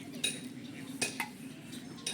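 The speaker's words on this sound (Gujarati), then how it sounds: "મારી ગુડિયા એના નાનીના ઘરે બહાર તડકામાં વાસણ ઘસે છે" A child scrubs metal utensils and dishes outdoors in the sun, giving a few sharp clinks and scrapes of steel on steel over a steady low background.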